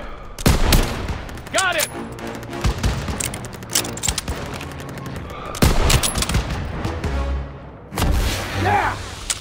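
Rapid bursts of World War II gunfire from Call of Duty: WWII crackle in repeated volleys with booming impacts, while a voice briefly speaks amid the shooting.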